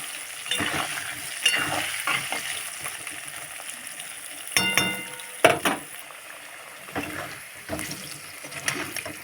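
Potatoes seasoned with a little salt and turmeric fry lightly in oil in a home kitchen, with soft sizzling broken by clinks and scrapes of a utensil stirring the pan, close and fairly quiet.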